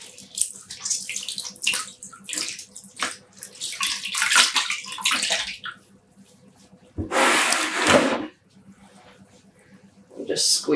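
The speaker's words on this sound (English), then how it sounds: "I'm just squeezing out some excess water from the soaking so I don't spill water absolutely everywhere." Soaked yarn being squeezed by hand during home dyeing, with bursts of dripping and splashing water in uneven spurts, close and fairly loud.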